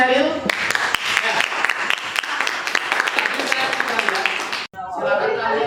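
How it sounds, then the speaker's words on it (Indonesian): Applause from a classroom of students, dense steady clapping for about four and a half seconds that stops abruptly, followed by a teacher beginning to speak. "Jadi tepuk tangan untuk Sheryl."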